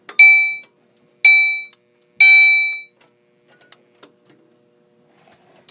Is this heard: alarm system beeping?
yes